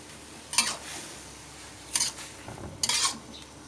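Minced field frog meat being stir-fried in a pan, with three loud bursts of scraping and clanking from a utensil stirring against the pan over a quiet background.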